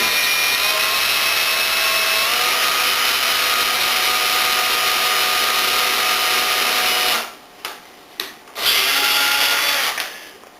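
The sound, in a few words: power drill drilling screw hole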